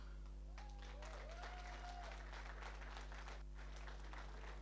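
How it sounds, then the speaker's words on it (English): Audience applause at the Old Mutual Schools Quiz finals, steady crowd clapping over a constant low electrical hum, with a brief tonal voice or whistle riding over it early on. "A big round of applause for Zengeza."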